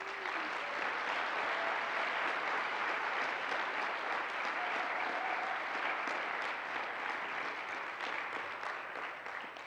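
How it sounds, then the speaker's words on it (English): Conference audience applauding steadily and fairly loud throughout, a dense even patter of many hands with no pause. "Let's give them a round of applause."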